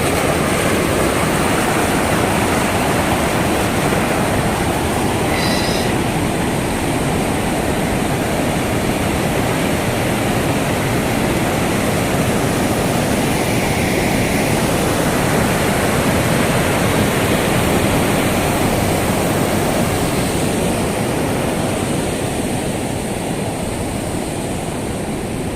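Loud, steady roar of rushing river water at Brindavan Gardens on the Kaveri, a dense continuous wash of spray and flow holding constant for the whole stretch with no voices over it.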